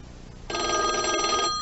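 A vintage rotary telephone bell starts ringing abruptly, a loud, rapid metallic trill that continues steadily for about a second.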